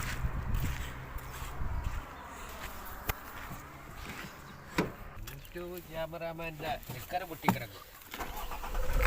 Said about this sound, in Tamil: வண்டியை ஸ்டார்ட் பண்ணிட்டாப்புல.